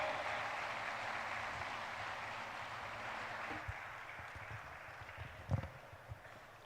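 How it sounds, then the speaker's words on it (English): A conference audience claps steadily to welcome a professor to the stage at a social leadership development program, a dense, even wash of applause that thins slightly toward the end with a few louder claps. "Please put your hands together and welcome with a huge round of applause, Professor Fernando Gariby."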